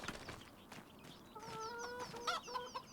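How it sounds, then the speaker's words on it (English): Chickens in a farming game set in Alma, Missouri cluck in short repeated calls, close and clear, with no talk over them. "The chickens have got enough food in there."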